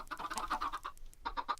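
Chickens in the Minecraft video game clucking in quick repeated bursts, a dense close cluster of clucks, a short pause, then a few more, with no talking.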